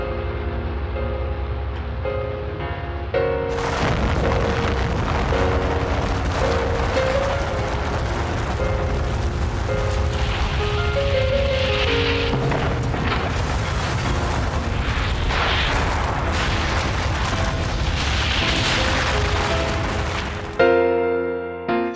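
Atomic bomb explosion of the Fat Man over Nagasaki, a sustained roaring, rumbling blast that stays loud and dense for nearly twenty seconds before cutting off abruptly.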